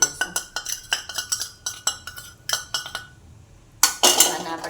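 A spoon scrapes and clinks against a metal pot in quick repeated strokes while spices are mixed into garlic puffed rice, ending with a brief rustling swirl, close up.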